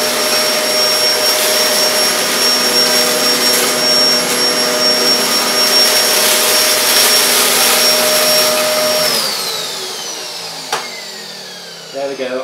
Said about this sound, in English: going to pass the machine forward and back through the middle of this